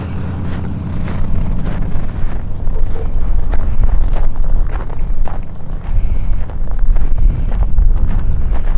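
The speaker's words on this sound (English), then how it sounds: "Wind's coming up." Strong wind blustering on a snowy winter street in Livingston, Montana, a loud continuous rumble buffeting the microphone throughout, with faint footsteps beneath it.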